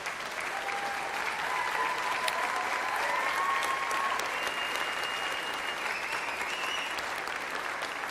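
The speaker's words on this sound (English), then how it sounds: "So can I have a huge round of applause, because she is leaving us." Sustained applause from a school awards audience honouring a departing dance teacher, an even wash of many hands clapping, moderately distant, with a faint whistle-like tone drifting through.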